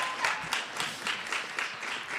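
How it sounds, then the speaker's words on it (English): Rhythmic audience clapping during a gubernatorial debate, quite faint and distant, with regular beats like a small group clapping in unison across the brief stretch. "yes, you can clap"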